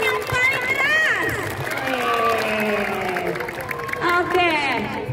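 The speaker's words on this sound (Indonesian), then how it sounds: "Tepuk tangan dong buat semuanya." Children at a primary school literacy roadshow clapping and cheering together, a lively crowd of young voices shouting and whooping over scattered applause throughout.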